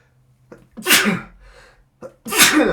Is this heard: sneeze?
yes